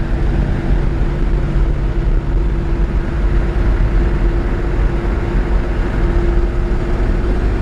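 A 1951 Chevrolet 3100 pickup truck driving along, its engine and road rumble a steady, loud low drone from the cab with no pauses and no voices.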